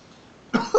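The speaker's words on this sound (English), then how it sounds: "I'm coughing." A pair of sharp coughs close up, the first a single burst and the second following a moment later, after a quiet start.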